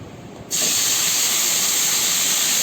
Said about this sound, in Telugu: ఈ ఆయిల్లోనే టమోటాలు, చింతపండు వేసి మగ్గించుకుంటాను